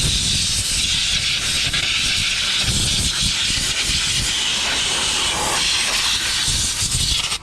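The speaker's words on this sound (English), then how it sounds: "clean the area with compressed air all around the spark plugs so that we don't have any debris in there" Compressed air hisses steadily and loudly around the spark plugs of a 2011 Ford F-150, one continuous close blast lasting several seconds.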